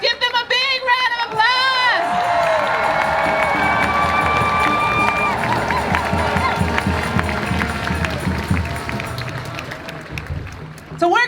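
Crowd at a Hands Off 2025 protest march applauding and cheering, dense clapping and shouts building after a few raised voices and holding strongly for several seconds before tapering.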